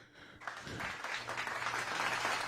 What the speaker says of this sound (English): I was looking for my clapping sound effects, which here it is